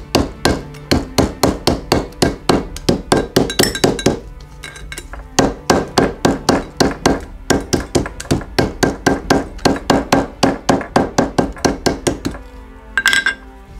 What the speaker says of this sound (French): taper à l'aide du marteau ivoire pour que toute la sangle se mette bien en place